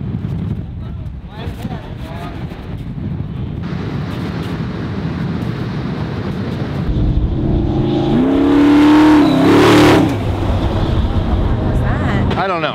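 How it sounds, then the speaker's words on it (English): A Ford EcoBoost pickup and a Raptor R race, and their engines rev and roar over wind on a beach. A rising whine swells to a loud peak and then fades, while people talk throughout. "Someone decided that they need to really race an EcoBoost against the Raptor R."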